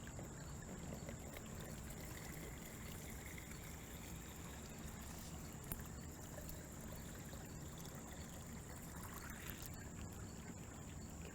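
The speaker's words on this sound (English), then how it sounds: "have another one of my sampling team pour water into it" Water pours into a cubitainer sample bag during water chemistry sampling outdoors. A faint, continuous trickle and splash runs steadily, with no talk over it.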